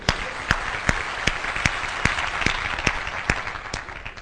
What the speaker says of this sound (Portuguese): palmas para o Diogo, pessoal